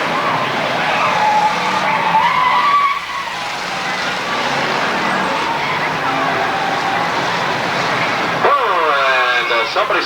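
Race cars roaring around Flat Rock Speedway during the 1991 Enduro 250, a loud continuous engine drone with passing surges and tire squeal, under a commentator's steady talk and a rising whine near the end.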